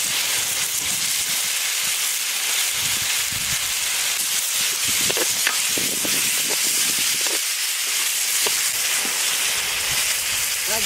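Sour yogurt hitting a hot pan while a pointed gourd curry is cooked, giving a continuous bright hiss with scattered crackles and small pops.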